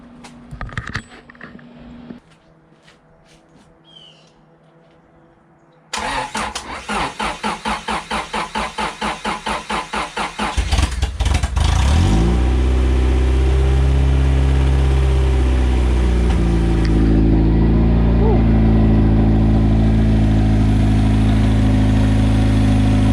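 Honda Civic with a swapped B18B engine cranking with a rapid rhythmic whir, catching and roaring up, then settling into a steady loud idle close by.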